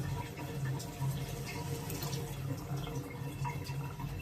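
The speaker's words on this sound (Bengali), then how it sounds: "এখন পানি ঢেলে দেব।" Water pours into a cooking pot for khichuri, a soft, steady splashing and trickling stream heard close but at low volume, with no voices.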